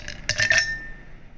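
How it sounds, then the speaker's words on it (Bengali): A brief clatter of ice dropping into a glass for wood apple sherbet, followed by a bright ringing clink that fades out over about a second. "গ্লাসের মধ্যে বরফ দিয়ে দেবো"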